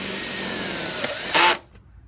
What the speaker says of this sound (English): So you take one of the self-tapping screws